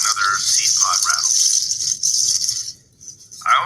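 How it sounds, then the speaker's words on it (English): A seed pod rattle shaken steadily for about three seconds, giving a loud, close, dense hiss of pods, then a short pause before a brief final shake, with faint speech-like sounds underneath. "another seed pod rattle."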